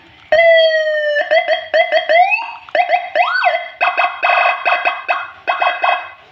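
A loud electronic siren from a Senken CJB 100 siren module cycles through rapid pulsing and rising wailing tones, close and piercing, changing pattern every second or so.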